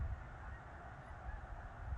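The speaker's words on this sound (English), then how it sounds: "Thousands and thousands of geese coming through Kenmare here." A migrating flock of thousands of geese honks in the distance, faint overlapping calls over low rumble outdoors.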